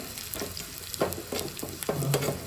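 Tadka tempering for roasted tomato chutney sizzles and crackles in hot oil, with several short bursts of spluttering followed by a louder, sustained sizzle near the end.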